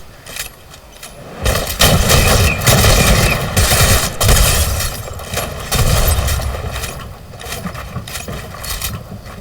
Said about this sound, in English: And now it's a mechanical explosive bow